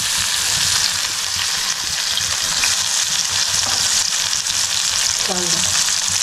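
Garlic, chilli and tomato fry in hot oil in a pan, a loud steady sizzle close up with occasional stirring scrapes.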